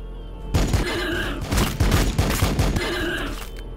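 Heavy gunfire from the video game Warhammer 40k Battlesector bursts in after a brief quiet, a dense volley of loud, booming shots with deep low thumps, fading slightly near the end.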